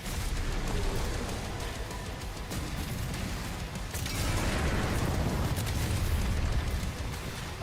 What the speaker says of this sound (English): This is a giant shotgun.